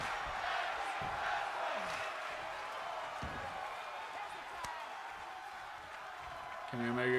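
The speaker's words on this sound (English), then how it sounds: "Tag team wrestling chants from the crowd." Crowd at a tag team wrestling show chants and cheers in a broad, continuous roar, with a commentator talking over it and a few thuds and rising shouts near the end.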